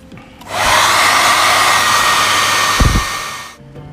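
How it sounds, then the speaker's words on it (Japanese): A hair dryer blows hot air over a water-slide decal on a Tamiya 1/35 M4A3E8 Sherman model tank. It switches on with a loud, steady whoosh, holds for about three seconds with a brief bump midway, then cuts off. "ドライヤー使った方がいいのかな"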